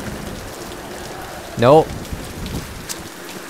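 Steady rain hiss falls throughout a video game scene, with a person briefly speaking over it partway through.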